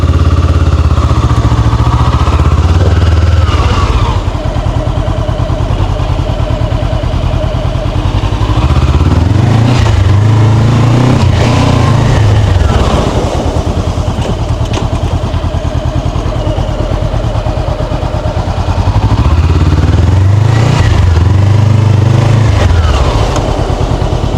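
A Honda CBR400R motorcycle engine runs steadily and loudly up close throughout, with rising and falling revs as it rides off and shifts through gears, no talking.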